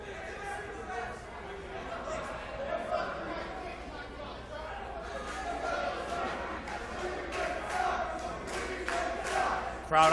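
Arena crowd at a college fight show jeering wrestler Shane Taylor, a steady rumble of chatter and shouts throughout, rising slightly toward the end under ongoing commentary voices.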